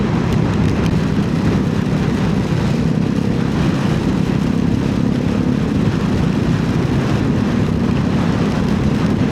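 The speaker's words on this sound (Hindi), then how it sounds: "मज़ा आ रहा है बारिश में राइड करने का।" Motorcycle ridden at night through heavy rain on the Varandha Ghat road, giving a steady loud roar of wind and rain noise against the helmet over an engine drone, unbroken for the whole stretch.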